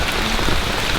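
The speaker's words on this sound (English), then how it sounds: "This is a very fitting exit to the Amazon with a torrential downpour" Torrential rain pours down in the Amazon region of Madre de Dios, a loud and steady wash of dense drumming without any break. No voices are heard.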